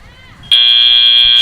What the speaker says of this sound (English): The buzzer does count as the scoring period. It is 3 seconds long.